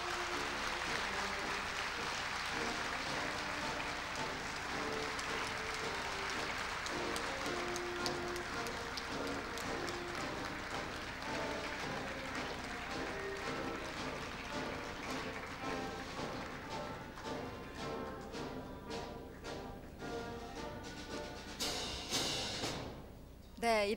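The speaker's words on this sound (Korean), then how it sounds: "자, 힘찬 박수로 다 같이 축하해 주십시오." A large audience at a Korea University presidential inauguration ceremony applauds in a steady, dense, sustained wash of clapping that fills the hall for over twenty seconds before thinning into scattered individual claps near the end.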